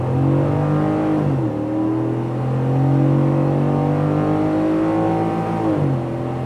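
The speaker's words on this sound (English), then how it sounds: "So we'll just kind of do some acceleration right here at this stoplight." A 2024 Ford F-150 Black Widow Edition's Coyote V8 revs up hard from a stoplight through rising gears, with a clear pitch drop at each shift, loud and close.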